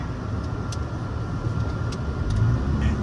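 A car drives along a road with a steady, close engine and road rumble, continuous throughout with a few faint higher ticks over the drone.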